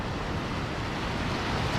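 Surf breaks and washes over someone standing in shallow water on a beach at night, a loud, continuous close rush of water with wind noise and no pauses.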